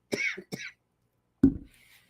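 A person gives two quick throat-clearing coughs, then after a short pause a single harsher cough, close and fairly quiet.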